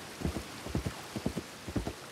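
Rainfall in Red Dead Redemption 2, a gentle continuous patter and hiss with evenly spaced, muffled low thumps repeating about twice a second, quiet with no one talking.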